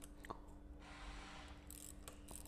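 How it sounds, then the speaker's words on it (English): A ratcheting wrench works the brake lever pivot bolt out of a Kawasaki KLX110 dirt bike, giving quiet, close mechanical clicking and scraping in short bursts against a faint steady hum. "I'm just using a ratcheting wrench to, I just have to get this bolt, this bolt out that's holding it"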